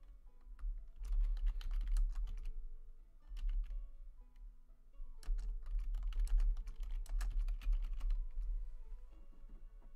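Typing on a computer keyboard comes in irregular bursts of quick, light key clicks with short pauses between them, recorded up close and fairly quiet.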